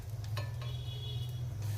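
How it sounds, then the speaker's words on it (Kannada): Curry leaves dropped into hot tempering oil with chillies, stove switched off, produce a short, soft sizzle with a few crackling pops over a low steady hum. "ಸ್ವಲ್ಪ ಕರಿಬೇವಿನ ಸೊಪ್ಪು ಈಗ ಸ್ಟವ್ ಆಫ್ ಮಾಡಿಬಿಟ್ಟು ಹಿಂಗೆ ಹಾಕೋಣ"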